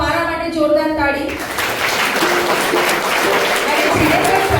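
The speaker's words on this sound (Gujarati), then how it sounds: "સો મારા માટે જોરદાર તાળી." An audience claps together at a birthday celebration after a presenter's call, with the presenter's voice first and then sustained, fairly loud applause filling the room.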